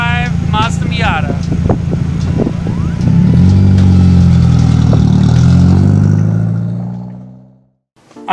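A 1995 Mazda Miata engine revs up loudly from a short burst of talk, holding a strong, rising tone before cutting off abruptly near the end.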